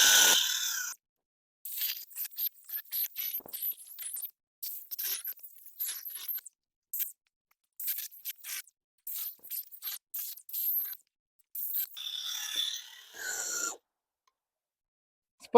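A hand saw cuts through a fallen tree in a forest with short bursts of crunchy, rasping strokes separated by pauses. The sound is close and dry, fairly loud, and no voices are heard.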